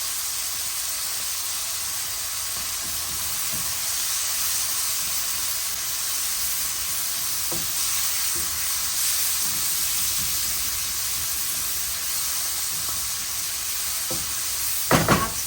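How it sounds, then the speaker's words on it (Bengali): Onion goes into a pan of frying corn, giving a constant, close frying hiss with occasional soft stirring scrapes and a short clatter at the very end. "কর্নটা ভাজা হয়ে গেছে, এখন দিয়ে দিব হচ্ছে পেঁয়াজ"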